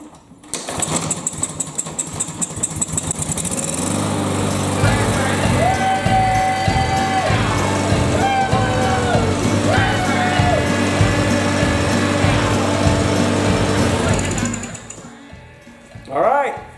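A Briggs & Stratton push lawn mower with a freshly cleaned plastic carburetor and fresh gas starts after a few pull-cord tries, then settles into a loud, steady running drone that cuts off near the end.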